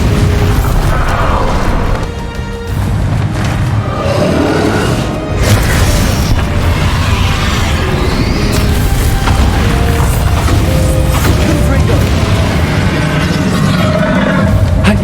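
A Bombarda blasting spell cast during a dragon fight in Hogwarts Legacy, a loud, continuous barrage of booms, bursts and mechanical clatter that keeps up without pause across the whole stretch.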